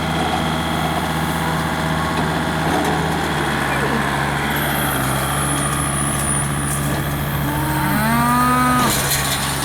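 Cattle moo repeatedly in the foreground, long drawn-out calls over a constant idling engine rumble, with someone talking now and then.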